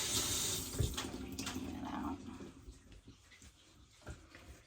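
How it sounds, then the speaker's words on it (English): Tap running as hands are washed at a sink, a steady close splash and rush of water that fades toward the end with a few faint knocks. "Had to wash my hands there."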